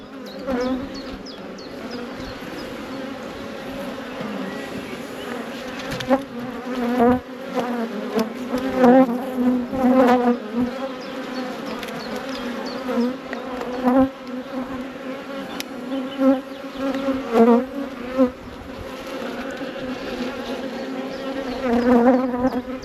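Honey bees swarm around an open beehive during a frame-by-frame inspection, a dense, continuous close buzzing that swells and fades as individual bees pass the microphone, with no voices.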